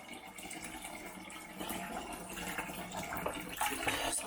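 Cold tap water runs steadily from a kitchen faucet while homemade butter is rinsed under it, a continuous close splashing flow that builds slightly louder toward the end.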